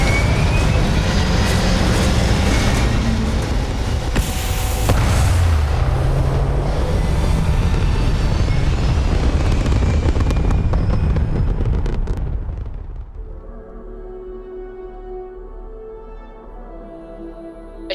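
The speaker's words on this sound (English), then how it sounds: "Thrusters firing." Spaceship thrusters firing in Starfield, a loud, dense roaring rumble lasting about twelve seconds that then drops away abruptly into a quieter hum with no talk over it.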